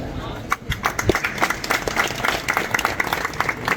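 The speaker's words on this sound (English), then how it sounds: "Please give them a big round of applause" An audience at a school debate applauds, a dense patter of many hands with some louder close claps, and voices mixing in underneath.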